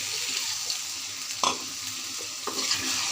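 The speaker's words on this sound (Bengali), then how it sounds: "মাংসটি কষানো হয়ে গিয়েছে আমি এখন একটু অল্প করে ঝোল দিয়ে দেব" Meat braising in a pan crackles with a steady sizzle as a little broth is poured in, with a couple of louder stirring scrapes breaking through the continuous hiss.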